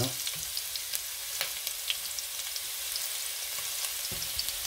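Ginger hits hot oil in a pan for a soup recipe, giving a steady, close crackling sizzle with small pops and light stirring clinks throughout.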